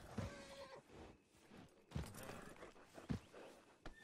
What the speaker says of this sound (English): He's a good horse.